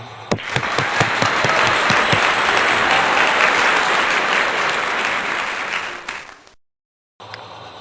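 A congregation at a Sunday church worship service applauds in a loud, sustained burst, opening with a few distinct claps before swelling into dense clapping, then cutting off abruptly into brief silence before faint room sound returns.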